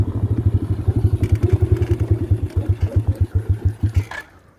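An X-PRO dirt bike engine with a failing carburetor runs unevenly close by, a loud rapid thumping putter with irregular beats that sputters and dies out near the end.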